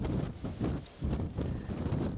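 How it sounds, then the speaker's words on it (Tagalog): Strong gusts of wind on Jeju Island buffet the microphone in rumbling, roaring bursts that swell and drop every half second or so, close and loud with no talk. "Tignan nyo ang OA ng hangin, no?"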